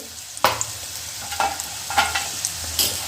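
Chili powder and turmeric are stirred into hot oil with reddish fried garlic. A soft, steady sizzle sits under repeated spoon scrapes spaced about half a second apart.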